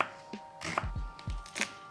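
A knife chopping mushrooms into chunks on a board, a few distinct, close thuds spaced irregularly, fairly quiet with no voices.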